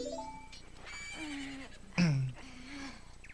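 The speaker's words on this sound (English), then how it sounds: "I like that the horse is the first thing you hear." Horse whinny from the Majora's Mask video game at dawn, a wavering neigh with a sharp snorting burst in the middle, heard over a low game soundtrack drone.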